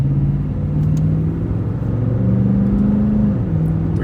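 Lexus GX exhaust with a muffler delete that keeps the factory resonator, giving a steady low rumble with a slight drone. The engine note holds close and constant and shifts pitch slightly as revs rise toward the end.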